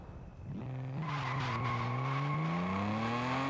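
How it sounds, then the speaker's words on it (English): Volvo car in Forza Horizon 5 skids with a sustained tire squeal while its engine revs and climbs steadily in pitch, loud and continuous without any voices. "Doesn't really sound like a Volvo."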